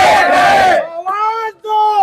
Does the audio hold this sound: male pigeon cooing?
no